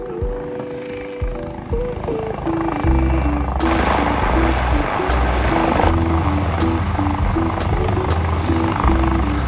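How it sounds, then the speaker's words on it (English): Two helicopters belonging to the Bahrain royal family arrive at a racecourse, their rotor thump and turbine whine building steadily and loud, with a droning engine tone continuing throughout. "So towards the end of the show, we were treated with some helicopters coming in."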